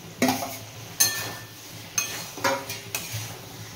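A utensil stirs fried potatoes and paneer in a pan, giving about five distinct scraping clinks at roughly half-second to one-second intervals over a faint sizzle.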